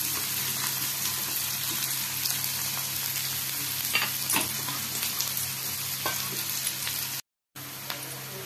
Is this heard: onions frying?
yes